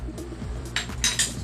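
A metal lid set onto a cooking pot of pork leg simmering in coconut milk, a few sharp close clinks and clatters over a low bubbling hum.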